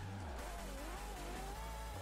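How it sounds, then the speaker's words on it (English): A synthetic Zenvo car engine in Forza Horizon 3 revs steadily upward in pitch, a continuous droning whine with faint rhythmic thumps underneath. "Dang, the revving tone"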